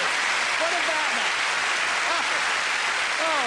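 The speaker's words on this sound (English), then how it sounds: "round of applause, Melvin" A studio audience at a 1989 game show applauds in a dense, steady roar, with a speaking voice over it.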